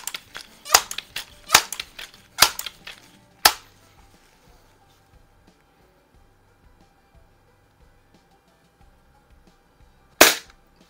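Crosman 2200 Magnum .22 caliber pump air rifle, repaired, fired across a garage: five sharp cracks spaced under a second apart in quick succession, then a long quiet stretch before one more loud shot near the end.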